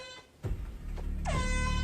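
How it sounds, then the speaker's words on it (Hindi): An air horn blares in a tense horror-movie scene, a loud sustained blast that starts abruptly and holds steady to the end, preceded by a brief thump. "एयर हॉर्न का मतलब है झुक जाओ"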